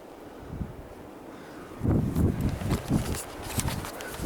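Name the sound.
wind blowing into the microphone outdoors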